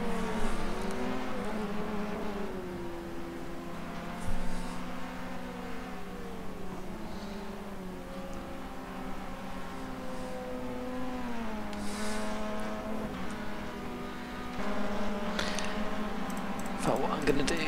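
A pack of Clio touring cars laps Brands Hatch in the rFactor2 racing game, with engine notes rising and falling through gear changes and passes under steady commentary talk.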